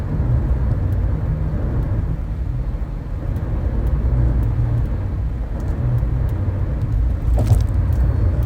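A car moves quickly across a big overpass, its steady low road and engine rumble loud and continuous from inside the vehicle.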